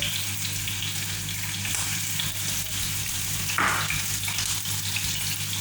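Garlic pieces fry in hot oil in a pan for lauki raita, giving a continuous dense sizzle at steady volume with a short brighter burst partway through, and no talk.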